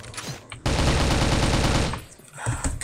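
Sustained automatic M16 rifle fire in the Crossfire video game's zombie mode, a dense loud burst of rapid rhythmic shots lasting over a second after a brief quieter lead-in, with scattered game sounds trailing off afterward.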